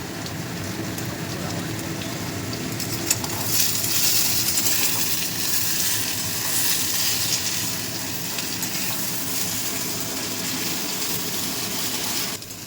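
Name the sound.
frying pointed gourd with salt and turmeric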